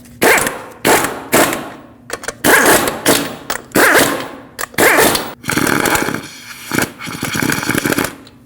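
A power tool slowly bottoming out the strut nut on a 2006-2015 Lexus IS250 front strut, heard as repeated loud bursts of rapid rattling hammering, each lasting under a second, separated by short pauses, with a longer buzzing run near the end.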